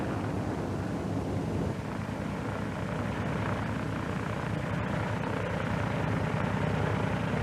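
A Vought F4U Corsair comes in to land under power, its engine a continuous, loud, dense drone with steady roar and wind noise throughout.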